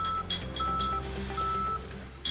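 A construction vehicle's reversing alarm sounds in a repeating series of steady electronic beeps over a low engine rumble, at moderate distance.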